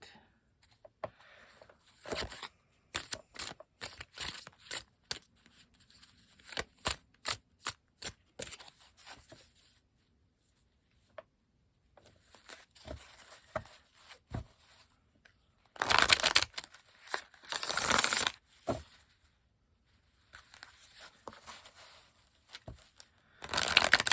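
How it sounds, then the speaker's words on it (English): Repeated riffle-shuffles of an Everyday Witch Tarot deck, labeled with keywords, form crisp papery bursts in quick sequences broken by pauses, with two longer louder shuffling runs near the end, heard up close with no talking. "I love shuffling this deck so much."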